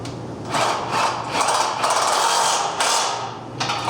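Ratchet with a deep well socket tightening a nut on a tie rod to a 10-inch bottom rail during a monumental stile replacement, a steady close mechanical clicking in repeated bursts of strokes with brief pauses between.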